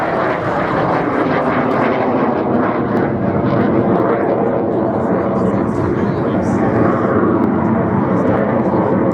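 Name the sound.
Hawker Hunter jet aircraft flying at an airshow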